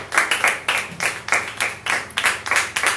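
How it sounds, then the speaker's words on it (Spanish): A church congregation claps together in praise, with loud, evenly spaced rhythmic claps repeating about twice a second throughout, close and without talking. "vamos a darle palmas de alabanza a nuestro soberano Rey de Reyes y Señor de los Señores"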